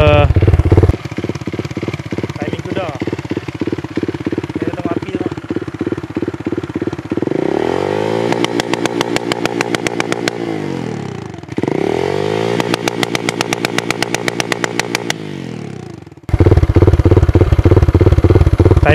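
A Modenas VF3i motorcycle engine with a modified exhaust idles with a steady chugging, then revs up hard twice in long roaring bursts before dropping back to a rough idle.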